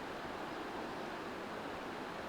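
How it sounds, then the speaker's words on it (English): Small waterfalls spilling along a creek valley in the rain, heard as a soft, steady broadband rush of water, even and continuous with no voices. "the waterfalls because there's so many of them, and they're not that big"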